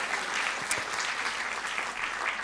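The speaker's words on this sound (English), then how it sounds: "Please give a round of applause to them." Audience applause at a recruitment-industry conference fills the room, a sustained dense clatter of many hands clapping at an even level throughout.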